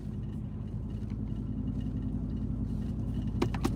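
Car rolling slowly through a university campus in Pfeiffer on a road trip, a steady low engine and road rumble throughout with a few brief sharper clicks near the end.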